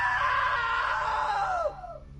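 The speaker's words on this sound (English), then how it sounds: "Now that was a great scream." A loud, sustained scream from Rick in What Remains of Edith Finch, starting strong and holding steady before sliding downward and trailing off to quiet near the end.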